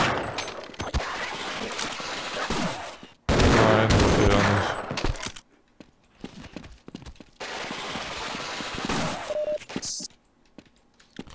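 Gunfire from weapons in the video game Half-Life, loud bursts of rapid shots in two long volleys separated by a short quiet gap, with scattered single shots and clatter between them.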